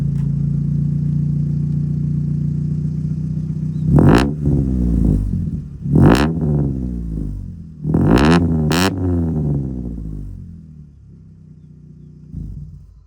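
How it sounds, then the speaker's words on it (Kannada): A modified Honda City Type 2 car engine with a very loud exhaust, idling as a low rumble, then blipped through several sharp revs that rise and fall back, the last one softer. "ರೆವ್ ಮಾಡಿ ನೋಡಿ."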